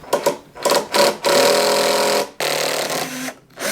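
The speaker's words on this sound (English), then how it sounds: "Thank you, Lord, for making power tools." A power tool works on an old antique kids table, whirring in short bursts and then a sustained loud grinding run, briefly cut off and restarted, close up with no talk.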